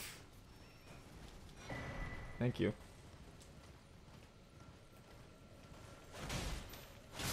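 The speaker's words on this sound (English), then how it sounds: "Horse." A horse's hooves clip-clop in the video game Elden Ring, faint and quiet beneath a voice, with a couple of sharper thumps and a swell of noise near the end.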